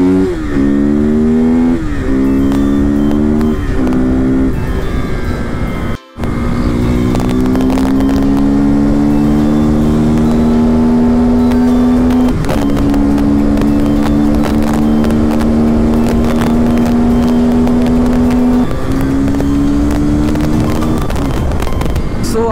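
Motorcycles including a KTM ADV 390 pull away on a group ride, engines climbing through the gears in a loud, steady drone with rising pitch on each shift, close to the recording rider and with no talking.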